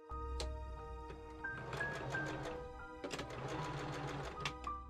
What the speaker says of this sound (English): I fold and machine sew the middle of the back piece down.